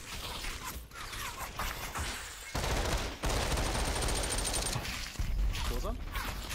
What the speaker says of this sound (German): Achtung, sie schießen von überall